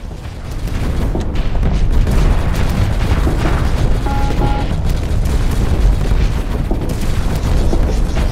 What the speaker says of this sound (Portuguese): Tá, preparando o canhão.